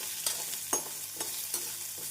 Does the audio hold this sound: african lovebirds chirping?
no